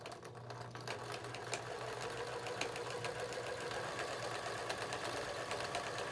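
A sewing machine runs continuously while stitching medical face masks down a stack, producing a steady rapid mechanical whir with faint regular ticking, fairly quiet and with no voices.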